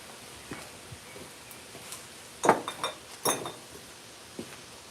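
Glazed ceramic mugs clink against each other a few times as they are lifted out of a gas kiln during unloading, short bright knocks close by with quiet handling noise between.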